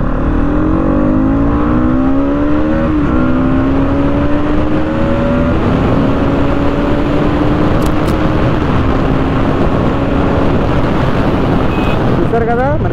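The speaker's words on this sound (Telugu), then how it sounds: "ఒకసారి మనం బ్రేకింగ్ టెస్ట్ చేద్దాం, బ్రేక్స్ ఎలా వర్క్ అవుతుందో చూద్దాం" A 2024 Bajaj Pulsar NS200 motorcycle ridden on the road during a braking test, its engine droning loudly and steadily with rising and falling pitch as it accelerates and slows, heavy wind noise throughout.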